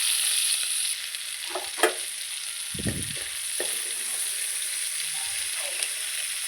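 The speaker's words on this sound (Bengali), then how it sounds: "আমি চিংড়িগুলিকেও ভেজে নেব" Prawns fry in hot oil for a milk-prawn dish, giving a steady, bright sizzle throughout, broken by a few clinks and scrapes of stirring utensils against the pan.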